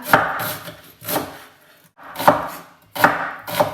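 Several sharp knife chops through an onion on a cutting board, spaced in uneven bursts with short pauses between them, close and fairly loud.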